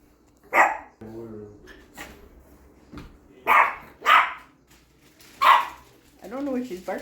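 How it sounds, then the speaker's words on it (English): A dog barks sharply several times in irregular bursts, close by, with a person talking between the barks. "I don't know what she's barking at."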